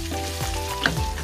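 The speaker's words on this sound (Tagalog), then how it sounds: "Ayan, igigisa ko yung sibuyas and luya dyan." Onion and ginger sautéing in rendered pork fat for laing, a steady close sizzle of frying with faint stirring, alone without talk.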